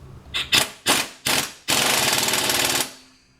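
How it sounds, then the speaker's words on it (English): An impact wrench set to about three-quarters torque hammers a harmonic balancer bolt in four short bursts followed by one long rattling burst, loud and close. "so you guys can see the impact. Got it on 3/4 of its torque tightening power."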